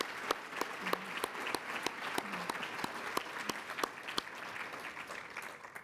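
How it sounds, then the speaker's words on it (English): Steady applause from a crowd, dense clapping continuing throughout at moderate volume, with no voices over it. "can we please have another round of applause for these wonderful women?"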